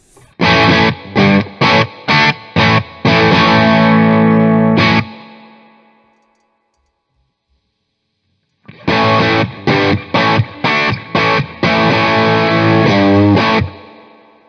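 Electric guitar played through a solid state amp with the sag control turned all the way up, loud distorted chords strummed in a rhythmic chopped pattern, then a brief silence before another run of chords that ends on a sustained ring.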